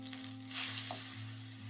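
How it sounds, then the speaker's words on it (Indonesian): Tempeh fries in a pan at home, a steady close sizzle with a brief surge of crackling partway through, over a low steady hum. "Ini aku goreng tempenya cuma separoh"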